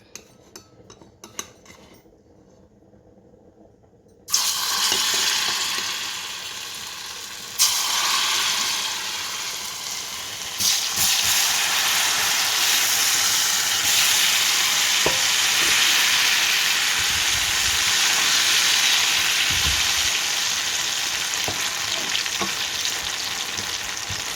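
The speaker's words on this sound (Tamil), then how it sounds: "எண்ணெய் சூடாகிட்டுது இதில் நான் தான் பொறிக்க போகிறேன் கிழங்க எடுத்துட்டு பாவக்காயை பொறிக்கலாம்" Bitter gourd frying in hot oil. After a few quiet seconds with light clicks, a loud, continuous sizzle starts and keeps going, with occasional stirring and utensil clinks.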